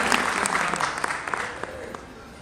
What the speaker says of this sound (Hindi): जोरदार तालियों से इस्तकबाल करिए अपने भाई का